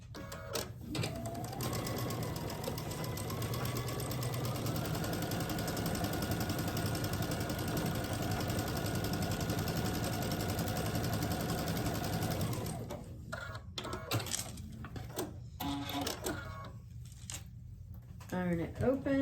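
Sewing machine stitching quilt block pieces together in one long steady run that stops abruptly, followed by scattered handling clicks and rustling, with a voice speaking at times.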